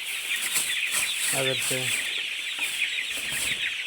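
Chickens in a poultry shed on litter bedding keep up a steady mass of high chirping. A few closer clucks rise through it, and someone speaks briefly over the flock.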